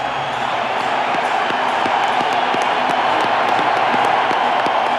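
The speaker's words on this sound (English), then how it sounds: "the crowd is cheering on their 3 heroes tonight" Large baseball stadium crowd at a White Sox home playoff game cheering and applauding after a 2-1 walk-off win, a dense, steady roar with scattered claps and whistles throughout.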